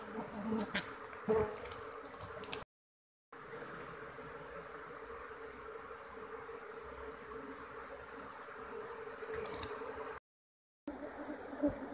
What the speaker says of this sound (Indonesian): Sebagian besar lebah bekerja, mengepakkan sayapnya